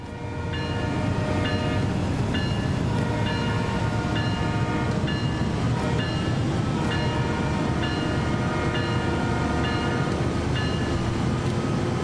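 A BNSF SD40-2 diesel locomotive accelerating in Train Sim World 5, a loud steady engine drone with rhythmic clicking and mechanical ticks throughout, no talk.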